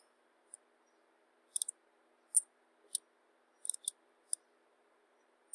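Computer mouse clicks sound while saving a screencast, sharp, faint, isolated taps, some in quick pairs, spaced across near-silence.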